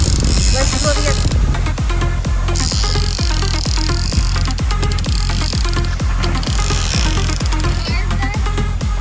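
A fishing reel winds in line aboard a boat at sea, giving a steady, rapid run of close mechanical clicks under constant background noise, with some talking mixed in.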